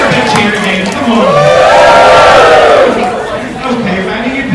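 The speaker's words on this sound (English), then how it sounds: "Give her a big cheer again." Cruise ship audience at a Royal Caribbean onboard show lets out a loud, swelling cheer with whoops and shouts that peaks mid-way and then eases off, close and lively.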